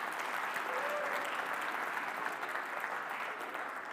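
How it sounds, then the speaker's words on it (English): Audience at a technology awards ceremony gives a steady round of applause for the sponsors, even and sustained at a moderate distance with no talking over it. "with a big round of applause"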